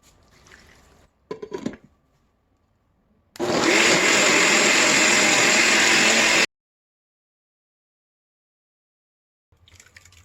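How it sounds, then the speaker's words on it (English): A kitchen blender purees onion, garlic, ginger and other ingredients for a light chicken soup, roaring loud and steady for about three seconds before cutting off abruptly, with quieter clinks and handling noises before and after. "Put in our ingredients in for blending."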